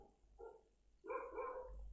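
A dog barks a few times in the distance, one short bark followed by a longer burst of barks, heard faintly in a quiet room.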